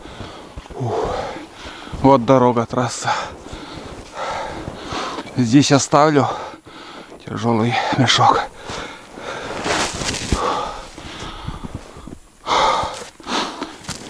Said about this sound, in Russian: Вот это запыхался я.